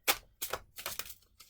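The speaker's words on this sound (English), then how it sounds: "If you don't want to watch the shuffling, you can skip ahead to when all the cards are laid out." A deck of tarot cards is shuffled in several quick riffling bursts, each a crisp papery flutter separated by short pauses, close and fairly quiet with no voices.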